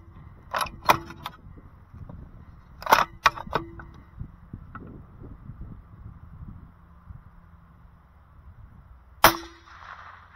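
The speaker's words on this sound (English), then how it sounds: "I'm gonna send five shots right now." A 22-250 Ackley Improved rifle fires at a steel target 612 yards away. Several sharp cracks come in a cluster, each followed by a faint metallic ring, then a final loud shot after a quiet stretch, with no talking.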